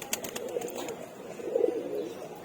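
Pigeons in a sky pigeon loft give two soft, throaty cooing calls, one early and one later, close by over quiet background with a few light flutters at the start.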